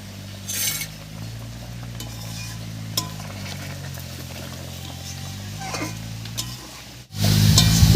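Fried eggplant is gently stirred into simmering curry, with a low steady bubbling, soft scrapes of a spoon against the pan and faint clinks, then a sudden loud burst of sizzle near the end.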